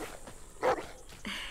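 A dog named Rosie in The Walking Dead video game lets out a single short, fairly loud bark or yip, with quieter whimpering sounds around it.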